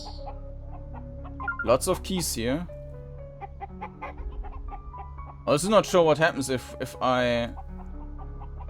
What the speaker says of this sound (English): There's another chicken thing.